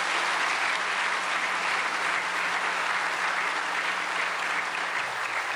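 An audience at a peace-and-unification prayer meeting applauds to welcome a guest lecturer, steady dense clapping filling the room evenly from start to finish with no voices over it.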